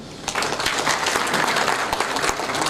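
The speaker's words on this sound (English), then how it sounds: "Can we clap for them?" Applause from an audience at a corporate HR conference talk, a dense, steady patter of many hands clapping for a few seconds, moderately loud and without speech.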